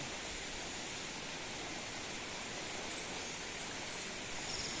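Steady rushing river water at the ninth river crossing on a trek toward waterfalls in Barangay Santa Ines, a continuous broadband wash heard up close with no talk.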